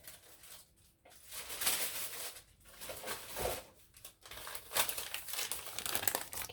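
A paper bag is being crinkled and handled in an indoor craft setting, producing steady close rustling and crumpling with short pauses and no voices.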